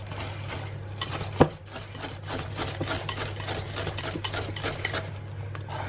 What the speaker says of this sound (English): I just like to use a wire whisk